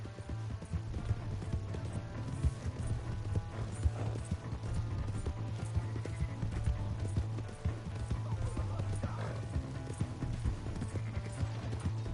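Steady clip-clop of horse hooves at a quick, even pace in the video game Red Dead Redemption 2 runs throughout, with faint voices and a low background drone underneath.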